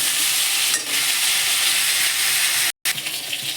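Onion dropped into hot oil in a pan in a small home kitchen, a loud continuous sizzle and hiss close up, with a brief break near the end.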